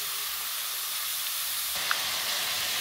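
Chicken pieces frying in hot oil in a pan, a steady, close hiss and sizzle that runs without a break, with no talking.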